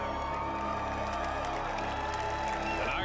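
Contestants in a game-show challenge cheering and whooping as a crowd, a dense continuous wall of shouts and excited voices heard from a distance under steady room noise.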